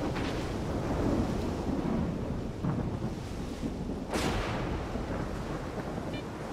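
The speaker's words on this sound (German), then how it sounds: "was für ein scheiß Sturm, Mann" Wind-swept storm in S.T.A.L.K.E.R. 2 with low rumbling thunder and a sharp crack near the end, steady gusty noise throughout, no talk.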